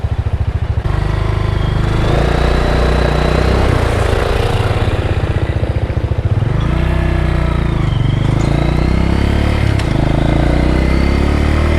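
A motorcycle engine runs loud and close while riding downhill in Singapore, its steady low drone shifting in pitch as the throttle eases and rises, with no other sounds over it.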